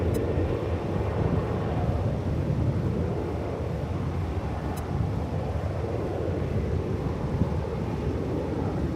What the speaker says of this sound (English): So here goes this flight off to the left coast.